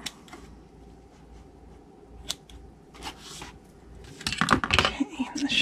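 Scissors trim the sides of a paper Halloween treat box in a few close, crisp snips and rustles, denser toward the end.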